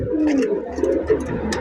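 A pair of racer pigeons coo softly and continuously at close range at a pigeon market, with a few faint chirps from other birds nearby.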